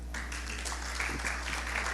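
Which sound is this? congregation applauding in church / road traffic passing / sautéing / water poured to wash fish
congregation applauding in church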